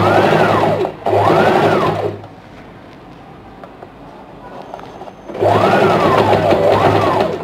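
A sewing machine top-stitching the neckline of a princess cut blouse runs in loud, close whirring bursts, stopping for a quiet pause of a few seconds before starting up again.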